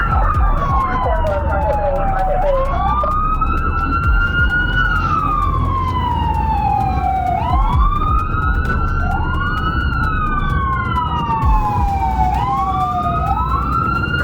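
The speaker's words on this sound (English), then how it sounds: "Armando Vinaja, a teenager who thought an April Fool's prank was best served with sirens and flashing lights by stealing an ambulance from the Palestine Regional Medical Center." Wailing sirens from a stolen ambulance and pursuing police cars rise and fall in long sweeping cycles, loud and close over a steady rumble of traffic and engine noise.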